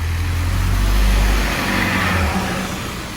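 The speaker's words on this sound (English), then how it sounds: "here is the 180 that I just rode on. Okay, let's get a shot of it departing" A route 180 bus pulls away from Abbey Wood Station, its engine a loud low rumble that rises and then fades slightly as it departs, heard nearby with no talk.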